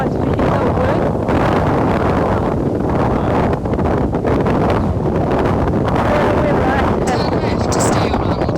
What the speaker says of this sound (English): It's always windy here, right?